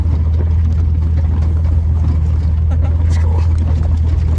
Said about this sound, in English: Idling our way out of Trona Pinnacles.